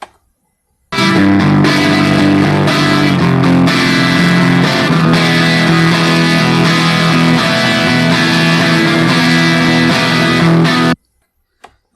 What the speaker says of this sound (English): Then the raw distortion result.